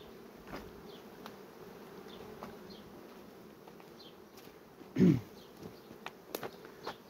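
Honeybees buzzing at a hive, a soft continuous drone with scattered faint individual bee passes and a brief louder buzz partway through, quiet outdoor setting with no speech.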